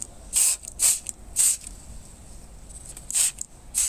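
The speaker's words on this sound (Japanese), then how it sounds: "こういう感じでスプレーするといいです。" A hand spray bottle misting growth-promoting fermented liquid onto plants grown in plastic PET bottles gives five short, loud hissing bursts, close up, with uneven pauses between squeezes and no talking.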